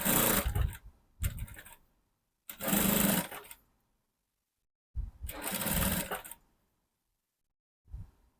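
Sewing machine stitching a lace dress at a half-inch seam around the armhole, running in four loud bursts of steady whirring separated by pauses, with a brief start at the end; no talking.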